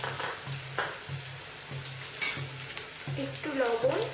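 Chopped onion and garlic frying in a pan for begun bahar. A quiet sizzle runs under rhythmic stirring and light utensil clinks, with a voice talking near the end.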